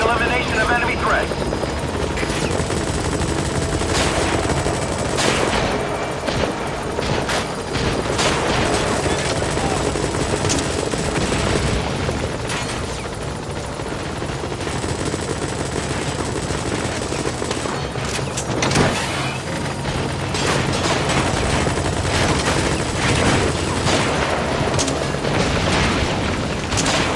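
An enemy helicopter's rotor thrums continuously in Metal Gear Solid V while machine-gun bursts and booms crackle throughout, with radio voices talking over the din.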